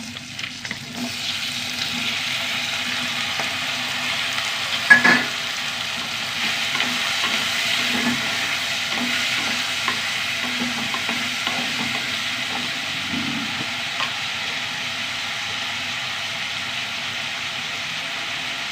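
Onions sautéing in a pan with garlic and curry leaves produce a long, steady crackling sizzle at close range, broken by occasional spoon scrapes and one sharp clink.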